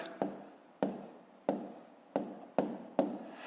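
Pen strokes of someone writing numbers by hand while working through a long division problem, six sharp scratchy taps spaced evenly about half a second apart, close and fairly quiet with no talk.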